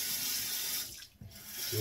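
Warm water running from a tap into a sink, a steady hiss of flow that dips briefly as it is interrupted, then resumes, fairly quiet and without talk.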